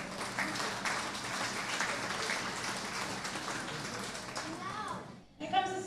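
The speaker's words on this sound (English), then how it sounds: "So let's go ahead and give them a round of applause." Audience applause for exhibitors at a county fair sheep and goat show, a steady wash of clapping lasting several seconds before cutting off abruptly near the end, with a voice briefly coming in afterward.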